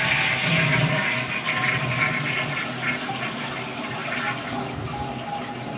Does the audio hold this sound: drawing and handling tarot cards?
no